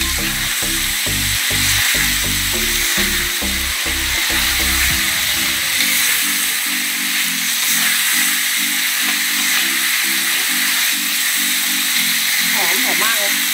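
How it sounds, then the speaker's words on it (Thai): King mackerel pieces dropped into boiling oil in a pan, a loud hissing sizzle that continues steadily throughout, with someone talking and rhythmic thumping sounds over the opening seconds. "ปลาใส่ลงไปเลยค่ะตอนน้ำมันเดือด"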